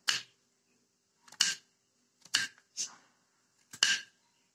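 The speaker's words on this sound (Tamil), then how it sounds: "எடுத்துக்கிட்டு அப்படியே வச்சு அறிய வேண்டியதுதான் கட்டையில வச்சுட்டு" Knife chopping banana stalk on a wooden cutting board: five separate sharp chops spaced about a second apart, close and crisp, with quiet gaps between them and no talking.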